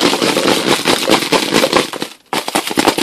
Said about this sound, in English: if I turn it completely sideways like this and tumble it just a few times